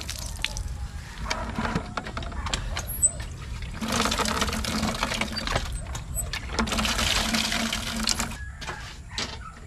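A hand-operated water pump, a manual well pump in a village yard, worked in long strokes that send splashing, gushing water out in two extended bursts with quieter creaking pauses between, close by.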